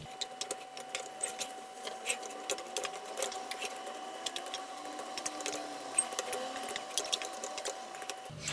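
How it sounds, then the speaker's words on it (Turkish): A fork mashes drained boiled potatoes, making quiet, rapid rhythmic tapping and scraping against the bowl that continues at an even pace throughout. "Şimdi bir çatal yardımıyla patatesleri eziyorum."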